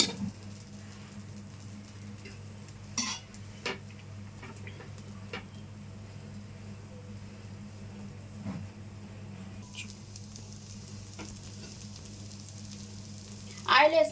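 Minapa dosa batter sizzling on a hot pan with oil, a soft steady crackle with scattered clicks and taps of utensils, quiet throughout.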